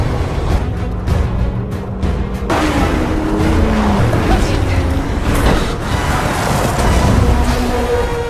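In a car chase scene from the film No Time to Die, engines roar loudly and continuously, with swelling revs and brief tyre squeals layered over a dense low rumble.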